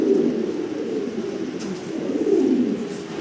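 Fancy pigeons coo in low, rolling, continuous murmurs close by, the burbling rising and falling over a few seconds.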